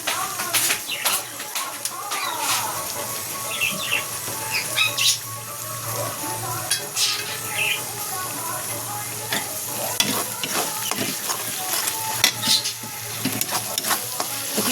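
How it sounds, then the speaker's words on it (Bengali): Spice masala with chili powder and local tomatoes frying in a pan for an eggplant bharta, giving a steady, close sizzle broken by repeated scraping stir strokes throughout, with faint bird calls in the background. "দেখো মশলাটা ভালো করে ভাজা হয়ে গেছে"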